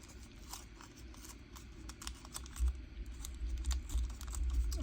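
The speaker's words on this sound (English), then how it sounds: "And let's just tear down this side." Paper card is torn slowly by hand along one edge, giving a dry, crackling rip that grows louder toward the end, close and alone with no talk.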